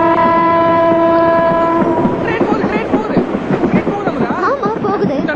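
A train horn blares steadily, then the train rumbles past close by on the track with rattling, clattering wheels and voices shouting over it.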